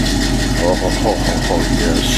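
A 1984 Chevy K20 truck engine idles with a steady low rumble through new, deeper mufflers, running continuously beneath a man's close speech.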